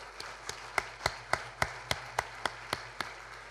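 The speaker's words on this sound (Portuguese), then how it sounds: "Peço uma salva de palmas para Francesco Dalcó." Sparse, evenly spaced claps, around a dozen, ring out faintly in a hall as applause for architect Francesco Dal Co at his honorary associate ceremony at the Casa da Arquitectura.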